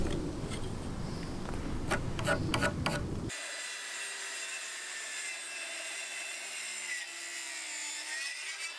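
A hand saw cuts a wooden roof beam for a timber-frame workshop annex, with several rhythmic rasping strokes at close range. The sawing stops abruptly and gives way to a steady, fainter background hum.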